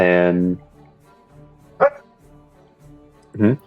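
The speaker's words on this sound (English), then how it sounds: "that was my dog barking" A pet dog barks a few times in the background, with one loud bark at the start and two shorter barks later, each separated by quiet, as a person says a word.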